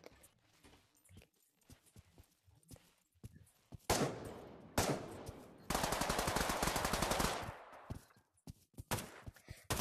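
Assault rifle gunfire from the Pavlov VR shooting game: loud sustained automatic bursts around the middle, a long rapid stream of shots followed by scattered single cracks and quieter clicks of handling, no talking.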